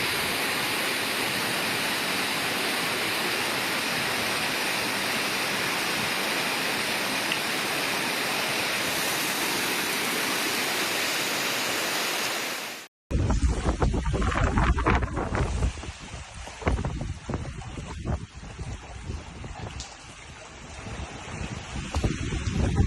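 Floodwater rushes through flooded streets in Murcia and Valencia, Spain, a loud continuous roar that cuts off abruptly midway, then returns as a rougher, uneven torrent with gusty bursts.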